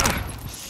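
A brief metallic clatter of a weapon being reloaded in Call of Duty: Modern Warfare during a Domination match on Shoothouse. It is a quick, close rattle of clicks that fades within a second.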